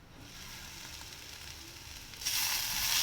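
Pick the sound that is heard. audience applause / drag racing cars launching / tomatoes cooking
tomatoes cooking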